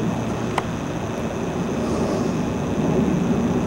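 An airplane flying overhead produces a loud, steady engine roar that fills the whole stretch outdoors, broad and constant without pauses, with no talking.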